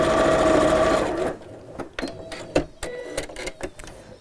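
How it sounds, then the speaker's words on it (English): A sewing machine stitches fabric pieces into a cube, first a loud steady mechanical whir, then a run of sharp, irregular clicks and taps as the stitching stops and the work is handled. "we're just sewing these into a cube shape"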